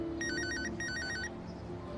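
A phone ringtone trills in two repeated bursts of warbling electronic tones in a Turkish drama scene, fairly loud over a low background hum, then stops.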